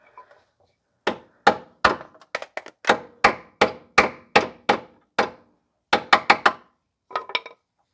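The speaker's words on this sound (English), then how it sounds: "sometimes just doing it a light tap with the hammer" Sharp metallic hammer taps on the lower control arm of a 2009 Pontiac Vibe's suspension ring out one after another, some single and some in quick clusters, close and loud against silence.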